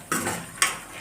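Chana dal frying in a pan with mango pulihora seasoning, two quick bursts of stirring and sizzling, close and fairly loud.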